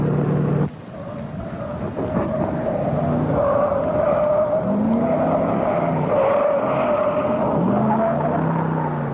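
A 1973 Buick GS 455 runs through pylons on a test track at about 40 mph, its engine droning steadily at moderate distance with rising and falling tyre squeals as it weaves, no talk.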